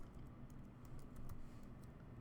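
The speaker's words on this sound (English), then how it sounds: "I'm going to type in that actual address" Quiet, rapid clicking of keys on a computer keyboard as an address is typed in, with irregular taps over a low background rumble.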